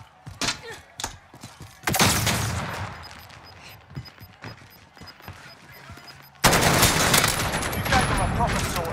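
Gunfire in the Call of Duty Cold War Warzone video game, bursts of rapid shots and thuds, some near and loud, with a voice talking between volleys and a heavy sustained barrage near the end.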